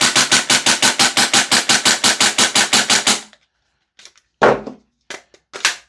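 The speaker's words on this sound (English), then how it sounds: "I kind of just want to keep shooting it" A Maruyama SPC-9 PDW gas blowback airsoft SMG fires a steady automatic burst of about twenty sharp, evenly spaced cracks for three seconds, loud and close, then a pause and a few isolated mechanical clacks and handling knocks.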